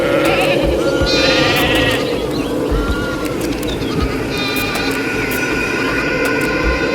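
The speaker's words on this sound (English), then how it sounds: "A small herd of sheep was grazing on dry and sometimes green and fresh grass" A small herd of sheep grazing on a pasture bleats repeatedly, several overlapping calls rising loud and close over a steady outdoor background.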